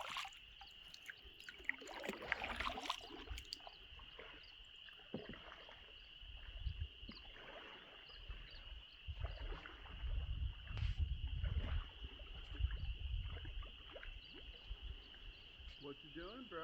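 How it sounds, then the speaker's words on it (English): Paddles dip and pull through calm water during an evening canoe trip, soft irregular splashes and drips close by against a quiet background with a steady high insect or frog drone. "We started paddling at 7:30 p.m."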